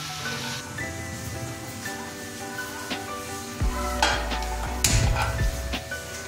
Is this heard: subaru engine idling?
no